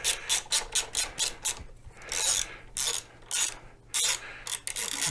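Ratcheting wrench undoing fasteners on a Solax vehicle being dismantled, near the transaxle: repeated quick clicking bursts in an irregular rhythm, close and fairly loud, with short pauses between strokes.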